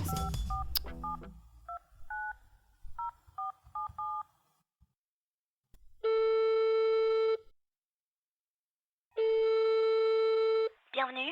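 Phone call to a bank hotline: a burst of touch-tone dialing beeps, then two long, loud ringback tones separated by silence, heard over a handset line.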